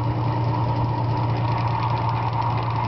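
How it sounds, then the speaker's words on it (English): A Bedini motor fitted with an eccentric pickup coil runs steadily as a continuous low hum and whirr, close and even in level throughout, with no talking over it. "the motor's running."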